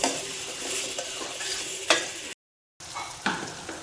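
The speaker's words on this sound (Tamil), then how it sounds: "இப்போ இப்போ நல்லா தக்காளி வதங்கிட்டுருக்கு" Tomatoes sautéing with cumin powder in a pan: a soft sizzle under occasional sharp clinks and scrapes of a spoon, with a brief silent gap partway through.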